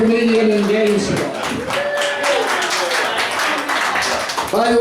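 Audience at a Gainesville stand-up comedy show applauds a comedian, a dense, steady wash of clapping that swells in the middle, with a host speaking over it at the start and end.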